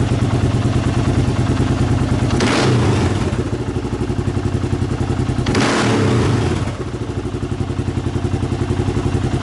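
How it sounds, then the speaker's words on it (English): A Kawasaki KLR 650 motorcycle engine runs loud and close with a steady pulsing idle, revving up sharply twice in brief bursts before dropping back. "That's when you crack that throttle, and so we go."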